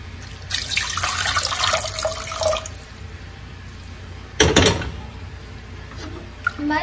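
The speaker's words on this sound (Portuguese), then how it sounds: "A gente coloca um pouquinho de água" Cold water pours from a tap into a pan for making polenta, a splashing stream for a couple of seconds, followed later by a short second burst of running water and faint kitchen clatter, all close by.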